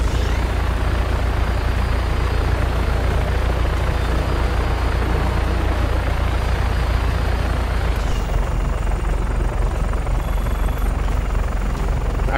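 Helicopter in the Just Cause 3 video game: a loud, continuous rotor and engine drone that holds steady throughout, with a slight change in tone near the end and no voices.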